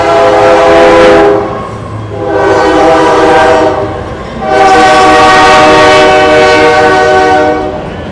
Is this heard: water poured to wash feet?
no